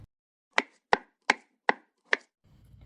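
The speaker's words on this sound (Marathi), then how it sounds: "पटपट मी भाज्या चिरून घेते" Vegetables such as onion, tomato and carrot being chopped quickly on a board for masala oats, five sharp knife strikes in a fairly even rhythm, close and alone.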